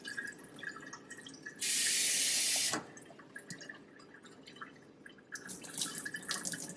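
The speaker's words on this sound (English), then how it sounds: "Just swirl the water around." Water swirled around sprouting seeds during a rinse, a loud rushing burst of running water for about a second, then quieter drips and trickling as it settles.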